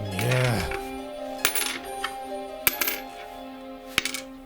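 A few coins drop and clatter onto a hard surface, starting with a ringing spin and followed by several scattered metallic clinks and rolls, close and alone without any talk.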